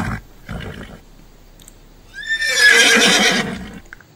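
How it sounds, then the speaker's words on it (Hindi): A horse neighs loudly and alone, one long shrill whinny that rises and then trembles downward for about a second and a half after a couple of brief softer sounds. "घोड़ा हिन हिनाता है।"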